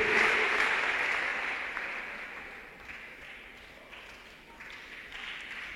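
Congregation clapping for the Lord at a revival meeting in Gabon, a steady broad patter of applause that is loud at first and slowly thins toward the end.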